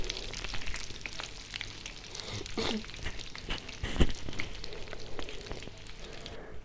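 Mini samosas made from flour dough deep frying in hot oil, a steady close sizzle and crackle with occasional louder pops and clinks, no talking.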